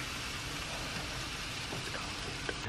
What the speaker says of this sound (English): The rain's coming down heavy